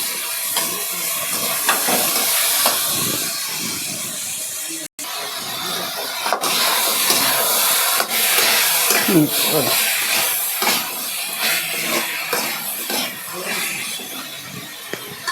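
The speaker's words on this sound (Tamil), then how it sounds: "நல்லா வெங்காயம் வதங்குது, வதங்கட்டும். கத்திரிக்காயும் போட்டு நம்ம வதக்கணும்." Onion and brinjal saute in a hot pan for village-style lima bean and brinjal kuzhambu, giving off a continuous loud sizzle and hiss. Faint stirring clatters are scattered through the sizzle.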